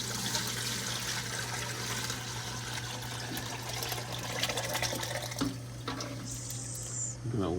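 Homemade chicken stock being strained, liquid pouring and trickling with running water splashes, fairly quiet and continuous, ending in clinks of kitchenware.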